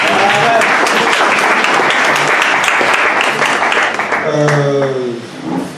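A church congregation at a Bible institute student certification ceremony applauds loudly and steadily, dense clapping that fades near the end as voices rise over it.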